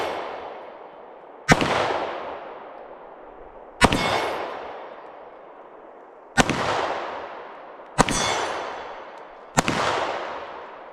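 Five loud, sharp gunshots at a shooting drill, spaced a couple of seconds apart, each followed by a long echoing outdoor decay, with no talking.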